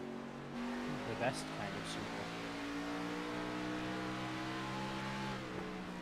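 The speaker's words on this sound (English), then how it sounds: "Couple of angry Toyota Supras chasing down the Mustang." Toyota Supra race cars chase a Mustang in the iRacing video game, their engines droning steadily with rising revs and a brief pass, under a commentator's talk.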